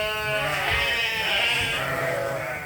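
Sheep at a feeder, rams and ewes together at breakfast, bleat loudly and continuously in overlapping, wavering cries close by.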